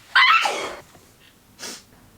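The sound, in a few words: sneeze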